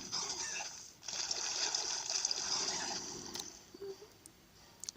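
Water rushing and splashing in a video game as a reservoir refills in Skylanders Swap Force on the 3DS, a steady gushing stream that cuts off briefly, resumes, then fades to a trickle with small drips.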